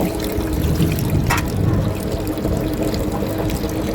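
A small amount of water pours steadily into a pressure cooker while sweet potatoes are prepared for boiling, a continuous close splashing stream with no talk.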